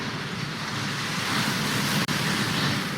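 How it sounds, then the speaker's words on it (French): A waterfall rushes in Hogwarts Legacy, a steady broadband roar holding at even loudness for about three seconds, broken only by a momentary dropout near the end. "Cette cascade permet de dissiper tous les enchantements."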